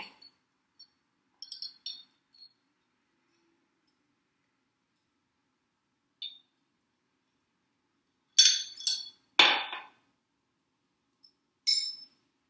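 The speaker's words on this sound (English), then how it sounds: "Now, let's fish them out with our spoon and dry them off again." A spoon scoops gems out of a glass of salt water, giving a few sharp, bright glassy clinks in short bursts separated by long quiet pauses, close and fairly soft, with no talking.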